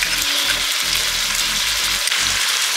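Loud, steady sizzle of gongura (sorrel leaf) chicken frying with curry leaves and ginger garlic paste, with low scraping thumps from stirring in the pan, close up and continuous, no voices.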